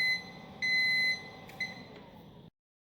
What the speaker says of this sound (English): An alarm will sound when the countdown ends.